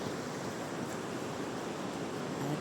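Water of the Miño river flowing steadily in the countryside, a continuous broadband rush with no break, moderately close and with no talk over it.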